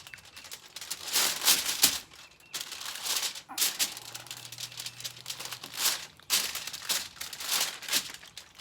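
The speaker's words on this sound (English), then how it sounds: "Got a bag to put some stuff in." A plastic bag is handled up close while meat is prepared for smoking, giving bursts of crinkling and rustling separated by brief pauses.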